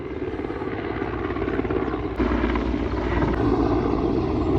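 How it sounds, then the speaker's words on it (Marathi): A helicopter flies close overhead near an airport, a loud, continuous rotor and engine roar that stays steady throughout with no one talking. "इथे एअरपोर्ट एवढं जवळ आहे ना, बघा, हेलिकॉप्टर, एरोप्लेन एकदम जवळून जातात"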